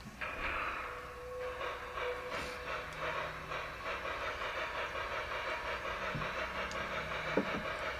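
The train in the video game OFF, Train 1 running through Zone 1, makes a continuous rumbling, hissing rail sound with faint rhythmic clatter, steady and moderately quiet throughout, with some tonal game music mixed in.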